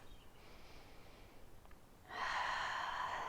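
A deep yoga breath during a morning stretch: a soft, drawn-out inhale followed by a louder, airy exhale that fills the last second, close to the mic with no talking.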